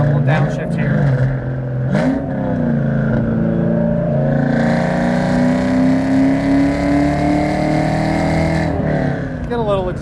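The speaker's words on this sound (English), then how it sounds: "Get a little exhaust note there for you early in the video." Exhaust note of a supercharged 1998 Ford Cobra with the 4.6 engine and an aftermarket Flowmaster muffler, a loud steady drone rising in pitch as the car pulls through a gear on a test drive, with a brief downshift blip early on.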